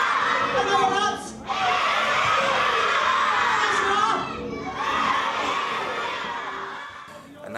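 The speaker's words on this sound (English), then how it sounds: "when you're backstage and you're hearing the kids screaming and they're really involved in the moment" Pantomime audience of children screaming and shouting together in a theatre, a loud sustained crowd roar with two brief dips before swelling again.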